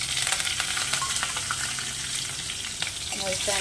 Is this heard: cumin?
yes